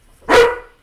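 One dog bark, single and fairly loud, sharp at the onset and fading quickly, heard during a live stream with no talking over it.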